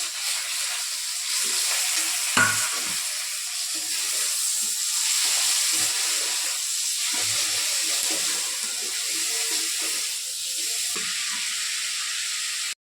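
Ground coriander, cumin and a quartered tomato fry in a pan with a steady, hissing sizzle, continuous and close, with a single sharp clink early on and no talking.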